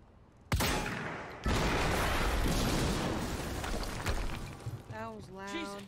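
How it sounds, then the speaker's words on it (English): Explosions in the Quantum Break video game go off as a sudden loud boom, then a second heavy blast that rumbles and crackles for several seconds before fading as a voice begins speaking. "HQ, we just heard an explosion near the harvesting perimeter."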